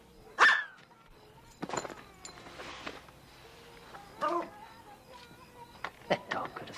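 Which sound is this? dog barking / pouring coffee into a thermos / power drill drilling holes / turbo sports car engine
dog barking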